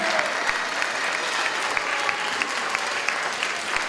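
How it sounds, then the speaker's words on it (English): Steady applause from a crowd at a charity fundraising celebration fills the space, many hands clapping continuously with a few sharper claps standing out. "Let's give a big round of applause again"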